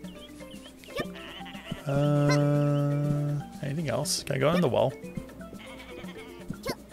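Sheep in the video game Koa and the Five Pirates of Mara give a long, loud, steady bleat in the middle, followed by wavering bleats and animal calls, with a player talking before and after.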